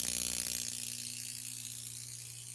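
A spark gap transmitter in a physics demonstration fires as a continuous harsh, crackling buzz over a steady electrical hum, loud and close, easing slightly in level with no speech.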